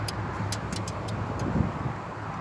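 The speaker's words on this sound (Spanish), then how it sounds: "ese ruido que está ahí, ese es un relay" A faulty relay in a 1988 Ford Econoline clicks in a quick irregular series of sharp ticks over a steady, noisy engine rumble.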